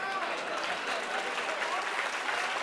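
An audience at a poetry reading claps continuously, a dense, even wash of applause that holds at a steady moderate level from start to finish.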